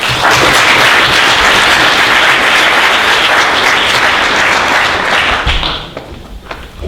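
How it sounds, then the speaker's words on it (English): A tech meetup audience gives a sustained, dense round of applause that fills the room evenly, then thins and fades out near the end. "let's give Brian and his team a round of applause as he gets started"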